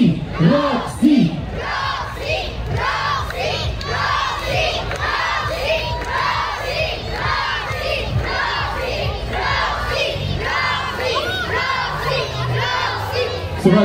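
A large concert crowd at an outdoor show in Baruchowo shouts and chants continuously in rhythmic bursts. The shouting is loud and dense and fills the whole stretch.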